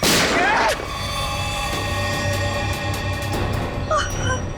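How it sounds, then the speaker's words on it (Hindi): A single loud gunshot rings out at the very start in a Hindi TV crime drama, then gives way to sustained tonal ringing and faint background sound. "लगा, नहीं तो एक और गोली चलाता हूं मैं।"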